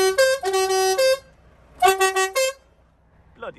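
Loud truck air horn blasts: a long multi-tone blare, a pause, then another burst, ending with a faint sound afterward.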